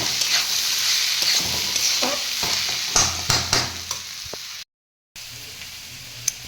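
Fish frying in a pan with a steady, loud sizzle and crackle, a few sharper pops and scraping stirs partway through, then a brief drop to silence before the frying hiss returns.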